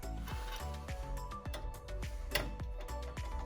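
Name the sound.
screwing motherboard screws into PC case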